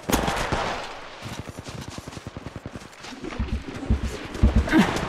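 Rapid automatic gunfire in the mobile shooter Apex Legends Mobile, loud bursts of evenly spaced shots in quick rhythm with heavier impacts near the end, no speech.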